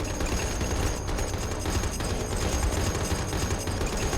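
Bomber tail gunners fire bursts at enemy fighters in War on the Sea, dense rapid machine-gun chatter blending with engine roar, loud and sustained throughout.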